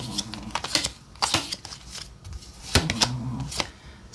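Tarot cards are shuffled and drawn in quick crisp bursts of riffling and slapping, close and irregular with short pauses between handfuls, no speech.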